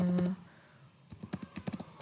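Keystrokes on a computer keyboard as a Prolog query is typed, a quick irregular run of taps in the middle, framed by short bursts of speech at the start and end.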